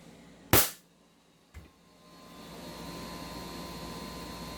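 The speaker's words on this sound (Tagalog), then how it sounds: "Ready to fire. Firing po tayo, firing." A Glock replica pistol fires a single sharp, loud shot, followed a second later by a fainter click or report, then a rising steady hum of background noise.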